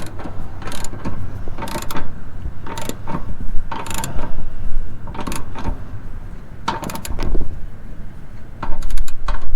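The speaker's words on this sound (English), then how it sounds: "then you come back in with your socket and tighten it up" A socket ratchet clicks in repeated short bursts while tightening the anode rod of an RV water heater, the loud close ratcheting alternating with brief pauses.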